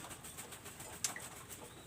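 Imported-blood flying pigeons coo faintly through a steady hiss, with one brief sharp click partway through and no voices.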